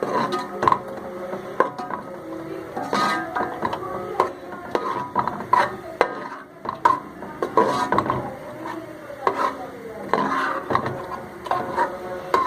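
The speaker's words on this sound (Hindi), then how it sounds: "अब हमें इसको अच्छी तरह से भून लेना है।" Mutton being stirred and fried in a karahi, with repeated scraping and knocking strokes of a spoon against the pan over a soft sizzle, close and irregular, with no talk.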